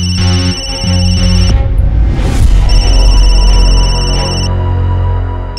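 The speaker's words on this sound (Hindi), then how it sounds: "होने वाले संदीप जी का फोन है" A telephone rings in a Hindi family TV drama scene, giving steady, bright tonal ringing that holds over a dense bed of background music for several seconds.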